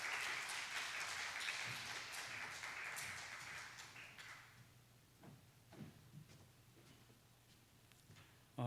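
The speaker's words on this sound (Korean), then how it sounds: "우리 기동현 교수님 나오실 때 우리 박수로 환영해 주십시오" A congregation at a church youth joint worship service applauds to welcome a professor-pastor. A few seconds of full, distant clapping fade into scattered isolated claps and small knocks in a quiet hall.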